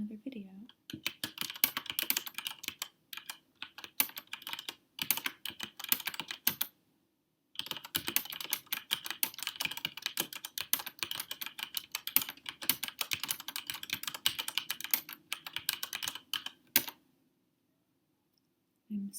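Close, quiet clicking of a mechanical keyboard in dense, rapid typing runs with a brief pause midway, while a soft voice talks over it.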